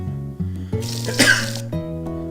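A single sharp cough bursts out midway, loud and close, over a steady musical background with sustained tones.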